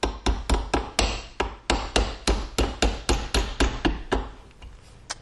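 A small hammer taps a pivot pin into an AR-15 stripped lower receiver, giving about eighteen close, sharp metallic taps in a quick, steady rhythm before they slow and fade out near the end.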